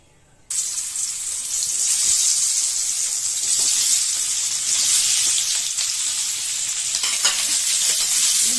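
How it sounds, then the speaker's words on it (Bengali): Potatoes dropped into hot white cooking oil in a wok start sizzling loudly after a short quiet moment, then keep up a steady, close crackling fry throughout. "তেলটা আমার গরম হয়ে গেছে এবার আমি আলুগুলো কড়াইতে মধ্যে দিয়ে দেবো"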